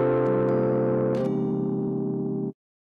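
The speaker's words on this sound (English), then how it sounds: "sort of a distortion sound" Sustained chord from the Kevin Keys VST keyboard plugin with its grit distortion effect: a gritty, distorted buzz that changes tone midway, ringing steadily before cutting off abruptly.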